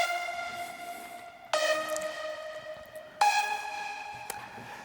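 Layered Spire synth leads play a melody for a progressive house track, bright stacked harmonic tones with sharp attacks, sustained notes changing pitch about every one and a half seconds, clear and up front with no talking.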